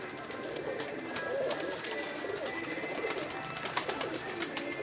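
Pari Packer breed pigeons gathered on a rooftop give soft, continuous cooing and murmuring at close range, with faint background noise and no voices.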